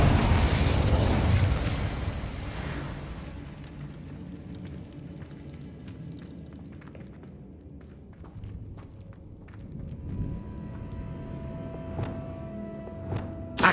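A burst of fire magic from the Incendio spell in Hogwarts Legacy, a loud whooshing, crackling blast at the start that fades into quieter game ambience with scattered clicks and a faint tone later.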